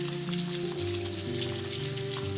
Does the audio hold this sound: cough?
no